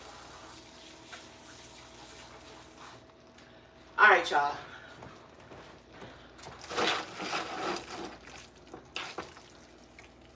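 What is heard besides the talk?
pouring water off cooked pasta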